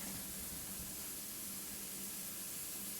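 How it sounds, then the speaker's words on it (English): Brussels sprouts sizzle in oil in a pan after the heat is raised from medium to medium-high, giving a steady, even frying hiss throughout with no talking. "You can almost immediately hear the increase in the boiling."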